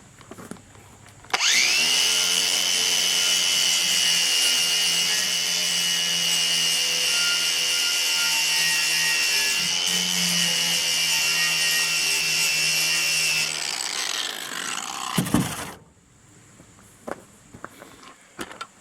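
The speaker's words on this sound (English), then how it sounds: "I'm just going to hit it with the wire wheel real quick." A loud, steady whirring grind of a wire wheel scrubbing rust off a Lodge cast iron skillet runs continuously for several seconds, then winds down with a few clunks.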